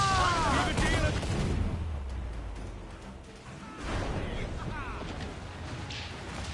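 Ship cannons firing in Assassin's Creed Black Flag, a rumbling, booming barrage with heavy low thuds and whooshing debris, continuous battle noise with shouted voices layered over the fire.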